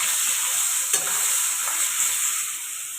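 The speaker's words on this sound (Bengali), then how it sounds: "আলুটাকে ভালো করে ভাজবো।" Potatoes seasoned with salt and turmeric fry in a pan with a steady, close, continuous sizzle and a couple of brief stirring scrapes; no voices.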